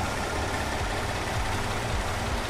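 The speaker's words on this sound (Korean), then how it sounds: "엔진 소리도 일정하네요" A Kia Carnival 3.3 gasoline minivan engine idles with a steady low rumble, continuous and close, even and unchanging throughout, with no voices.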